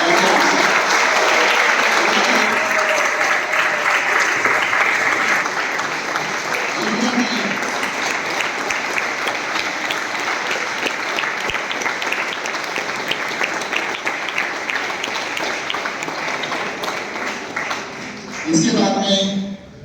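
Audience giving loud, sustained applause to welcome a speaker at a gathering celebrating railway recruitment exam results, dense clapping that fades slightly before a voice comes in near the end.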